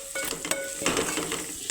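Potato pieces drop into a hot pan and get stirred, giving a few sharp metallic clinks and scrapes followed by a soft, close sizzle, with no talking.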